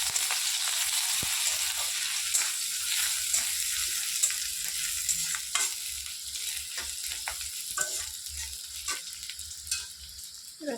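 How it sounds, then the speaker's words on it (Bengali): Garlic sizzling in hot oil in a pan, a steady bright crackle with occasional pops and stirring clicks, loud and close throughout with no talking. "আবার শেষে রসুন দিয়ে দিলাম।"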